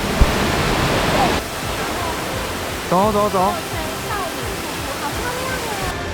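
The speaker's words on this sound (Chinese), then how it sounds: "各位，我们到乙女瀑布了，在后面。" Otome Waterfall on the Batongguan trail to Yushan, a loud roaring rush of falling water that drops to a steady softer background roar, with hikers talking over it.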